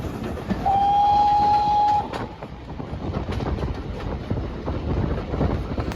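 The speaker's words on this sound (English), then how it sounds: "now we're climbing uphill again to Churston, and the engine is working very hard" Steam locomotive on the Paignton and Dartmouth Railway working hard uphill toward Churston, opening with a loud sustained whistle blast, then heavy rhythmic chuffing and rumbling carriages close by.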